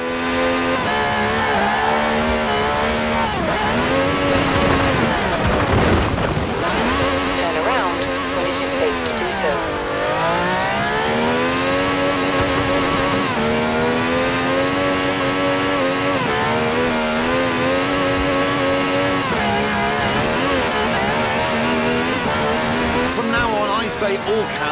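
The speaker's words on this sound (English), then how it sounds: "This has a V12 with over 750 horsepower, plus bucket seats." A V12 engine of over 750 horsepower in Forza Horizon 4, revving loud and close, its pitch sweeping up and down through gear changes with continuous engine drone throughout.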